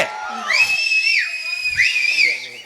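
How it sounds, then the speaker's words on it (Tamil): A person whistles a loud, close, sliding tune that swoops up and down in pitch over a couple of seconds, with faint background voices around it. "ஏன் விசில் அடிக்கிறேன்"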